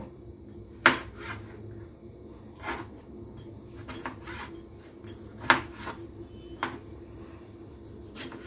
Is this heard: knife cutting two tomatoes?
yes